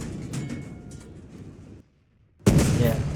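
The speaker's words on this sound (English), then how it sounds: "the tank cannon block has a sound of its own" Tank cannon block from a Polish TK tankette build in a video game fires with a loud booming report, followed by a brief silence and then a second heavy blast, with no talking.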